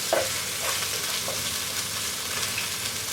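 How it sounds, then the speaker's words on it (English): Garlic and onions sizzle steadily in a pan, a loud, close frying hiss with a few soft stirring scrapes and no voices. "to the onions I'm going to add some garlic in there with it"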